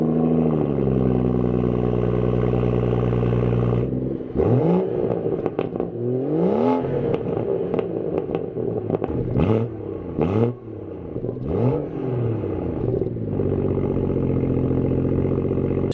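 A BMW 440i M Sport engine idles smoothly, then revs repeatedly in sharp rising bursts with crackles between them before settling back to a steady idle, loud and close with no talking.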